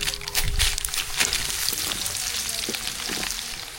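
Dried red chillies crackle and sizzle in hot oil while tempering sambar rice, a steady close frying hiss with scattered pops and light stirring, no voices.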